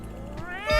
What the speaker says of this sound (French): Felis sylvestris me considère comme une menace.